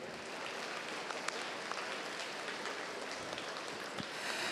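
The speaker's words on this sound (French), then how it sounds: "Sous vos applaudissements," A hall audience at an agricultural show claps for two Percheron stallions, a faint, steady, even patter of many hands from a distance, with no voices over it.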